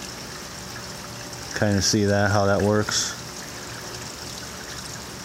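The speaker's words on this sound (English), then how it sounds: "the water falling, cascading evenly across the front." Water cascades evenly across fodder trays holding seed in an indoor fodder system, a soft continuous trickle running throughout, partly masked by someone talking briefly midway.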